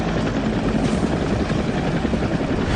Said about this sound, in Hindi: लद्दाख के आसमान में उड़ते ये जंगी जहाज और हेलीकॉप्टर